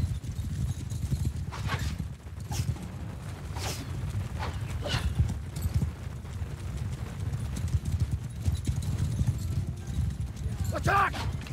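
Many horses in Mount & Blade II: Bannerlord pound along in a dense, continuous drum of hooves, loud and close, with occasional whinnies and brief sharp accents over the din.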